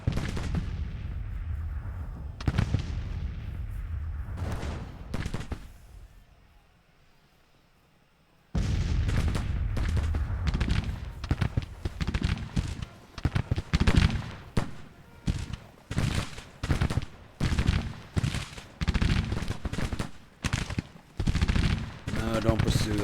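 Rifle fire in the Civil War video game Grand Tactician: a dense rolling crackle of musketry in repeated volleys, loud, briefly dying away into quiet before resuming as continuous bursts, with a voice speaking at times.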